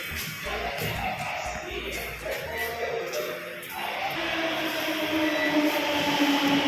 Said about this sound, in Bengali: চলে এসেছি আমরা বসন্ত বিহার মেট্রো স্টেশনে